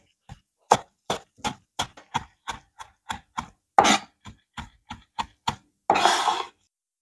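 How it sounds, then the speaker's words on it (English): Mint leaves are chopped finely with a knife on a board, giving crisp, evenly spaced close knocks in a quick rhythm, about fifteen strikes, ending with a brief scraping sweep. "1 handful of mint leaves finely chopped."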